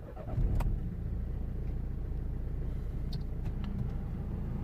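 A Renault Megane III 1.5 dCi diesel engine cranks and catches, then settles into a steady low idle rumble that continues to the end.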